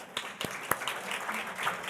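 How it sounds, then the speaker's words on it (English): A conference audience at a professional forum claps for a speaker being welcomed to the stage, sparse, fairly faint hand claps with a few distinct louder claps early on. "Round of applause for Helen."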